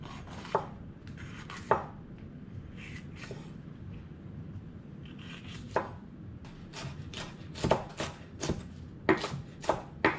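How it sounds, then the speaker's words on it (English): A knife chops spicy peppers on a board for curry, giving a scattered series of close, crisp cutting thuds, sparse at first and then quicker toward the end, with no talking. "I'm also gonna cut a little spicy peppers for the curry."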